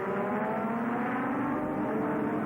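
Superbike racing engines, including a Kawasaki, roar steadily on a 1983 race track, a dense continuous high-revving drone that stays loud and even throughout.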